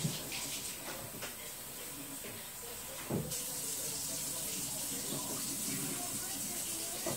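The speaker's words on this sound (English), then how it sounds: "you think I should rinse off my lettuce?" Running tap water pours steadily over lettuce being rinsed at a sink while preparing a bluefin tuna fish salad, a continuous close hiss with brief splashy bursts as the leaves shift under the stream.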